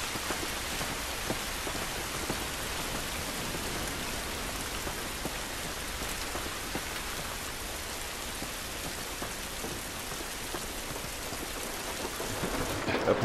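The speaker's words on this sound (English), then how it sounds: "It's raining." Steady rain hisses across a stormy outdoor scene in The Last of Us, with low thunder rumbling beneath it; the downpour stays loud and even throughout, with no voices.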